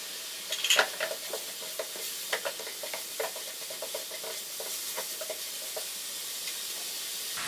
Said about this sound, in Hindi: इसको हम मज़ीद 2 मिनट के लिए फ्राई कर लेते हैं।